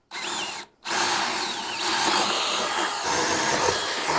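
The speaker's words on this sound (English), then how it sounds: "I don't think I've ever seen a jigsaw cut such a straight line." A jigsaw cuts a straight line, giving a loud, close buzzing rasp that starts, stops briefly for a moment, then resumes and runs steadily to the end.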